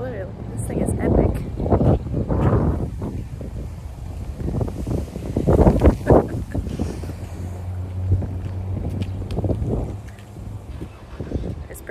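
Strong outdoor wind buffets the microphone in gusty surges at the Corn Palace in South Dakota, loud and continuous, with a person talking through much of it.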